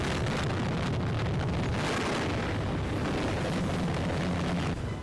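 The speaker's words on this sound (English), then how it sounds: "There is an attack by a British warplane and aircraft fire." Anti-aircraft fire during a British warplane attack on a naval squadron, heard as a continuous loud roar of blasts and rumbling booms with wind-like noise, no pauses throughout.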